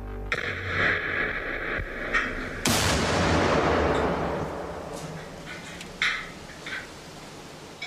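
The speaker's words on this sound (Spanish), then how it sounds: "es sometido a la fuerte detonación de una explosión de bomba colocada en un vehículo adyacente" A car bomb explodes suddenly beside an armored car, its broadband roar decaying slowly over several seconds amid static-like background noise and a few later thumps.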